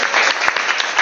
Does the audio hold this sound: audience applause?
yes